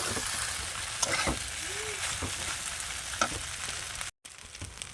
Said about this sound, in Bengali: এবার একটু খুন্তি দিয়ে ভালো করে নাড়িয়ে নেব একটু ভাজা হয়ে গেলে